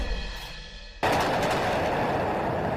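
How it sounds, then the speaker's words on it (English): Gunfire in Times Square, New York City, hours after the Knicks parade: after a second of low background noise, a sudden loud, harsh burst erupts and continues as dense, sustained noise. "The sound of gunshots sending people scattering in one of the most congested parts of New York City."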